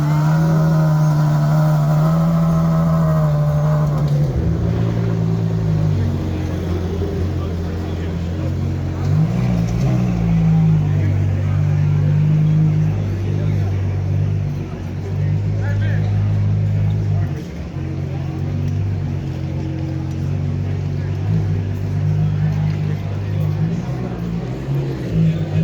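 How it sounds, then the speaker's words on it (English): Ferrari naturally aspirated V12 engine in an SUV on an upscale shopping street, a loud, sustained engine drone with shifting pitch and revs, mixed with street traffic noise and crowd babble. "Sound of a naturally aspirated V12"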